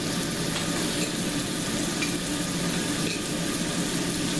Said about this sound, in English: we're going to add a little bit of butter